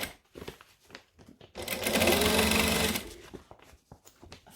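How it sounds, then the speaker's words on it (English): A sewing machine top stitching a folded fabric pouch near the zipper runs in one steady burst of about a second, rapid needle clatter framed by quieter handling noises before and after. "then we're just going to top stitch"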